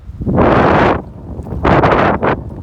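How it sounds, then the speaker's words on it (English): Strong cold wind gusts on a mountain hiking trail buffet the microphone in two broad roaring bursts with a quieter lull between them, loud and close. "It's cold and windy"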